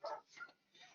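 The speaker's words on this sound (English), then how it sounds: "I don't know if y'all can hear my dogs barking" Pet dogs barking in another room of a home, three short muffled barks spread across a second, faint and distant, no talking.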